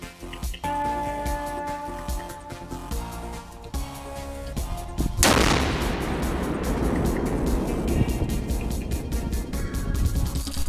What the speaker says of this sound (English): An improvised explosive device on the roadside, 15 kilograms of TNT.